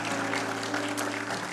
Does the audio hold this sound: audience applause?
yes